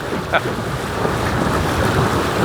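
Wind gusts across open water buffet a small boat, a steady loud rushing roar with microphone wind noise and water wash, briefly peaking early.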